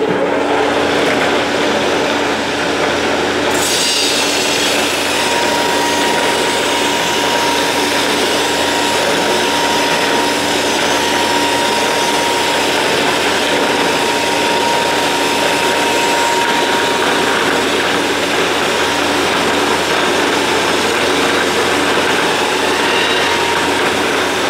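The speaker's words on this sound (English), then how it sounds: "We try to do most of the grinding like this first. So I'm going to turn it on." A powered grinder bites into an unhardened steel sword blade, roaring loud and continuous as the bevel is ground, with a sharp onset when the machine starts and no talk during the run.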